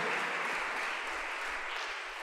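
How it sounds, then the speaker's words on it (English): Church congregation clapping their hands in praise after a sermon, a dense, even roar of applause that stays steady and moderately loud, with no talk. "Clap your hands and praise the Lord"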